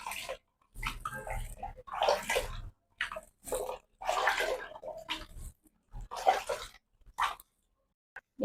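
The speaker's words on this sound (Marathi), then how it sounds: "असा चाळणीत घेते मी आधी काढून म्हणजे पाणी निघत त्याच्यात." Soaked wheat being tipped into a sieve so the water drains out, heard as irregular close bursts of splashing and trickling with short quiet gaps between them.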